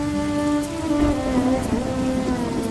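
Heavy rain pours steadily in an animated story, with a low rumble of thunder underneath and a soft musical tone running through it.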